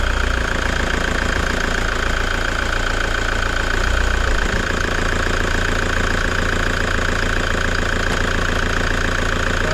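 A car engine idles steadily and loudly through the whole stretch while the transmission fluid is checked, with a low rumble and a slight shift in tone midway as the gear is moved into drive. No one speaks.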